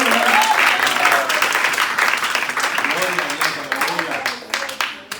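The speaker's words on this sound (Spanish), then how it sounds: "Dile fuerte las palmas al Señor" Church congregation applauding with loud, sustained clapping that fills the room, slowly thinning toward the end, with voices mixed in.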